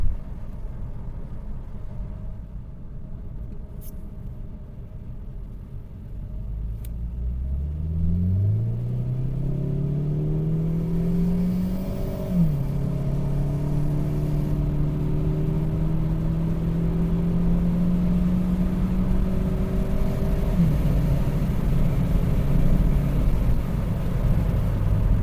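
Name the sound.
Saab 9-5 Aero stage 1 tune engine accelerating in sport mode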